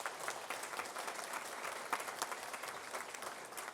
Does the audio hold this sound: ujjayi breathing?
no